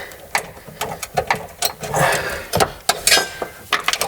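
A swivel ratcheting wrench clicks in quick, uneven bursts while removing coilover bolts on a Nissan Skyline GT-R R33, with close metallic ratchet ticks and short pauses between runs.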